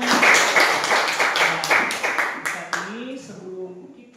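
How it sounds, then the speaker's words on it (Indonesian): A class claps hands for God: a steady run of sharp, close claps fills the first few seconds, then fades as voices talk over the end. "Tepuk tangan untuk Tuhan."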